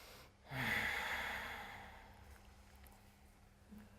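A single deep, slow breath during a seated yoga stretch: a strong airy inhale or exhale close to the ear that fades gradually, followed by quiet.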